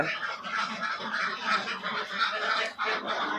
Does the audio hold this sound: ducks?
yes